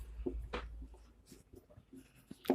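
Marker or pen strokes on a board or paper while a class 10 substitution-method equation is worked out, a few short scratchy bursts spaced irregularly, fairly quiet and close.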